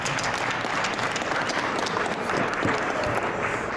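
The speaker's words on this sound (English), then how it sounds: "So let's give them a round of applause." Loud, continuous applause from the crowd at a boxing post-fight press conference for a Cotto versus Canelo bout, steady and close with no talk over it.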